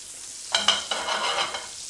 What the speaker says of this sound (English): we want a nice hot pan to begin caramelizing our rabbit